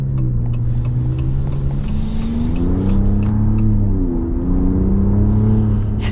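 A 2026 pickup truck with an inline-six engine accelerates, heard from inside the cabin. Its engine note rises smoothly and steps down at gear shifts over a constant road rumble, with no speech.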